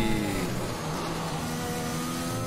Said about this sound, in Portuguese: Tem aí os carros da Williams